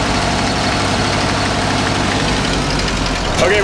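A car engine with a carburetor problem idles loudly and steadily nearby, a low, even rumble with slight knocking vibration throughout.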